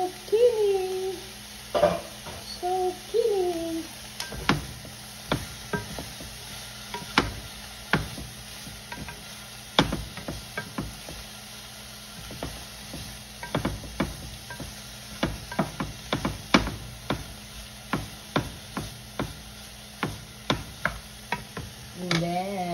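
Sliced zucchini stir-fried in a pan, with a steady run of sharp utensil clicks and scrapes against the pan over a low sizzle, close up; a brief voice is heard near the start.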